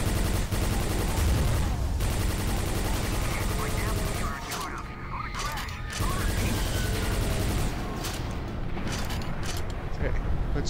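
Rapid hyper blaster fire in the shooter Quake 4, a dense, continuous stream of energy-weapon shots with mechanical clatter, loud and up close, with a voice talking over parts of it.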